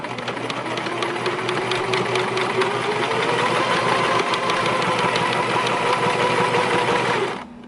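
A sewing machine runs fast and steady, back stitching wheelchair seat fabric with a dense mechanical chatter at close range for about seven seconds before stopping abruptly.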